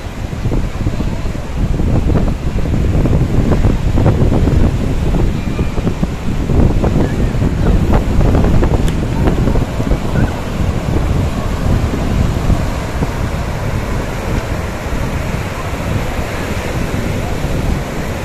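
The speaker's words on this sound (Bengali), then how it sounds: "বেশ পরপরই ঢেউ আসছে।" Sea waves surge and crash continuously against rocks nearby on a Goa beach, a roaring wash with wind rumbling over the microphone.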